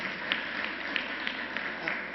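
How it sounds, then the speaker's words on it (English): Faint, distant round of applause from an audience at a New York government announcement, a thin steady patter of clapping with a few sharper claps standing out. "let's give all of our partners a round of applause"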